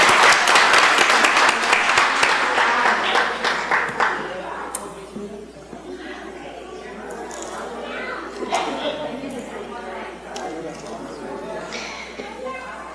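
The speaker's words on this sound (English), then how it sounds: "Let's have a round of applause for the adults that got them here tonight" Audience applause at a Bastrop city council meeting, a dense burst of clapping that is loudest in the first few seconds and then thins to scattered claps under murmuring chatter and voices in the room.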